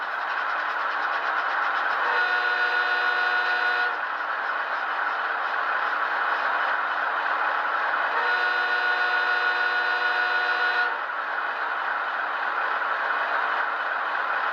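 An Athearn ES44AC HO scale model locomotive sounds its horn in two sustained multi-tone blasts of about two seconds each over a steady electronic diesel engine drone, with no talking.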